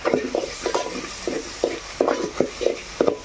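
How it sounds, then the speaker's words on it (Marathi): A spoon stirs and sautés crab masala in a pan, giving a steady run of short scraping strokes with faint sizzling, close and fairly loud. "आपण परतून घेऊया"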